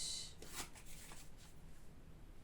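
Fairly new, slippery tarot cards being shuffled by hand, a few quick papery riffles and flicks, quiet and close, with no talking.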